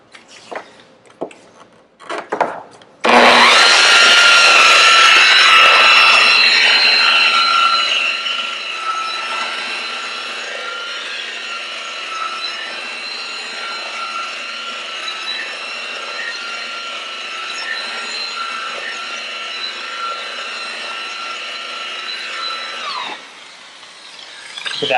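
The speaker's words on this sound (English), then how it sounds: "I'm going to go a little bit further with this compound" A powered buffer runs polishing compound over the finish of a Kawai KG6 grand piano, a loud, continuous whirring hum that starts abruptly after a few handling knocks and holds steady for about twenty seconds.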